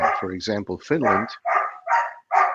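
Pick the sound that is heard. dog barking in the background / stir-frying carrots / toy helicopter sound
dog barking in the background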